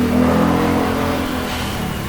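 A motorbike engine revs loud and close, a strained droning whine that holds steady and then eases slightly over two seconds.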